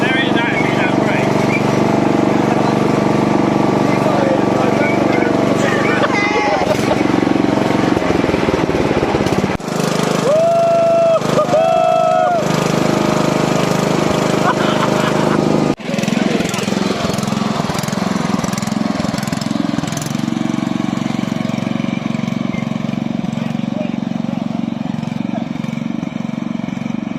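Small engine of a motorized picnic bench vehicle driving on the road with no brakes: a steady, buzzing mower-like drone throughout, changing pitch as it runs, with people talking over it.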